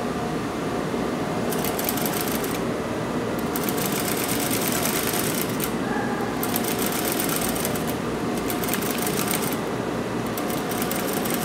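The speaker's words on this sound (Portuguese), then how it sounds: "você vem costurando, ó, até o finalzinho" A sewing machine stitches an invisible zipper, running in loud, continuous bursts with a fast mechanical whir. The runs break off briefly for short pauses, and no voices are heard.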